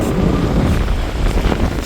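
Strong wind gusting across an outdoor jetty in France on a windy day, a steady loud roar buffeting the microphone throughout with no voices.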